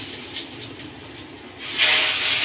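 Potatoes dropped into hot oil with whole cumin seeds: a soft steady hiss, then a sudden louder, close sizzle as they hit the pan and keep frying.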